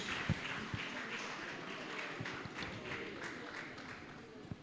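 An audience claps for a speaker at an international insolvency conference session, a steady wash of applause with scattered sharper claps throughout, moderately distant and fairly quiet.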